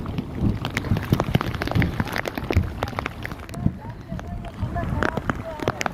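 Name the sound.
heavy rain at Keenjhar lake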